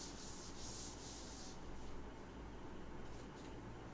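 Rubbing strokes erase writing from a board in a chemistry lesson, several quick scrubbing swipes that fade after the first half, faint against a constant background hiss, with no talking.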